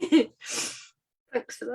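One sharp, breathy sneeze bursts out between short stretches of speech during a live online chat, loud and close, with people talking just before and after it.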